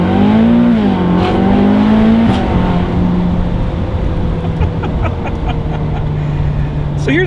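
A Ferrari California accelerates hard, its engine note rising then holding a steady drone close by, with a person talking over it throughout.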